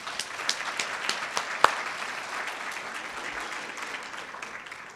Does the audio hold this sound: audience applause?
yes